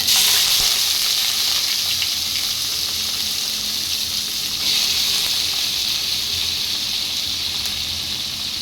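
Water lily stems drop into a hot tempering in a pan, setting off a loud, continuous sizzle that holds steady from start to finish with no talking.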